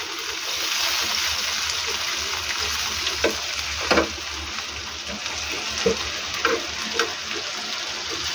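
Onion frying in a pan with a steady broadband sizzle, punctuated by a few brief stirring clicks and scrapes, close and continuous with no speech.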